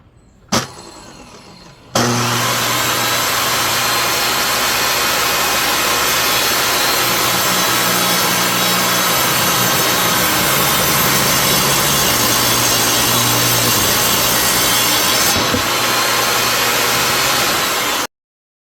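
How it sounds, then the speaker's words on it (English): A table saw rips a wooden cutting board to final dimensions: a click, then the saw spins up loud and steady, its blade whining and rasping through wood for about sixteen seconds before cutting off abruptly. "Then, I set up the table saw to rip it to its final dimensions."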